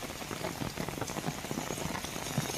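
Steady rain falls on streets in Khambhalia, Dwarka, a dense, even patter with scattered drops splashing close by, continuous and alone with no voices.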